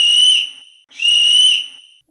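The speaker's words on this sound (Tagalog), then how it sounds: "Napahinto lang si Ken nang marinig ang pito ng mga pulis." Two long, shrill blasts from a police whistle, each piercing and steady before tapering off, separated by a brief gap, loud and close with no talking.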